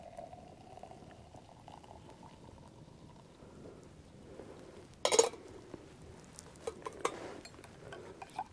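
Water boils in a pot at a chilly winter hammock camp, a low steady bubbling rumble throughout with a few sharper clicks and knocks near the end.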